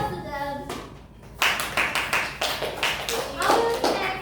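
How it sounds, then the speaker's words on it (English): A classroom audience applauds after a student presentation, brisk scattered hand clapping building up and carrying on steadily for a few seconds, preceded by a short spoken line. "Give applause to them."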